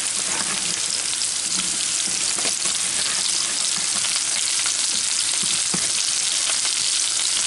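Ginger, garlic and carrots fry in a pan for Kerala-style mango pickle, a loud, dense, continuous sizzle with occasional crackles and pops, heard alone without any voices.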